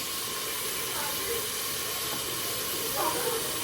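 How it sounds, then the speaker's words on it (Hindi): Tomatoes and meat fry in a pan for a Pakistani bhindi gosht, giving a loud, even sizzling hiss that runs unbroken throughout, with a couple of faint clinks underneath. "टमाटर और गोश्त को भूनेंगे।"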